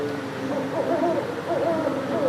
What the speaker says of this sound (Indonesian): Betul sekali, burung hantu.